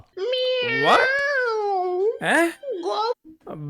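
A cat meows in a long, drawn-out wail, then gives a few shorter meows, close and fairly loud.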